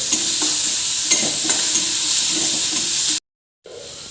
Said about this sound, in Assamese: তাৰে আগতে গোটেইখিনি দিয়াৰ আগতে আমি পিঁয়াজখিনি ভাজি লৈছোঁ।